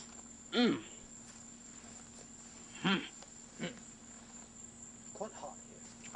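Faint insect chirping near a canal in hot weather, a low steady buzz with a few louder nearby rustles or clicks scattered over the quiet background.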